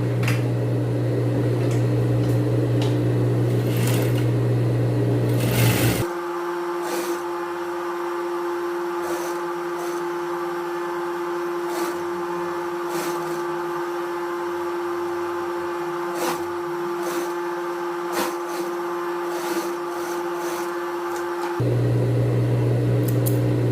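A sewing machine stitches a seam on a women's tailored blazer, running as a steady whirring motor drone for about fifteen seconds, close and even, between louder room background.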